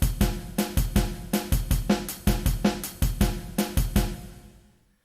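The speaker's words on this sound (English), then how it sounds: "So I started with a samba beat," Samba drum beat loop for a town theme in a Suikoden fangame, a busy steady groove of bright hits and deep thumps in standard time that fades out at the end.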